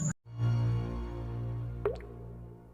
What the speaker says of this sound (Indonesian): kita bisa melihat tetesan terakhir dari botol parfum tersebut